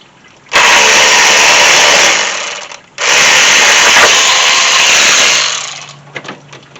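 Power tool backing a bolt out of a 2003 Jeep Liberty during radiator work, two loud, close whirring bursts of about two seconds each with a short gap between them, then quieter shop noise as it winds down.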